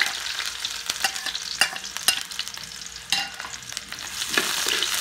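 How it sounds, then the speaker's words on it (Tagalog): Garlic and onion sauté in hot oil with a steady sizzle, interrupted by scraping stirs and occasional clinks from the pan. "Una namin igigisa ang bawang. At lalagyan na rin namin ang sibuyas."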